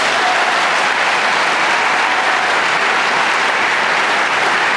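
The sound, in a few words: audience applause at graduation ceremony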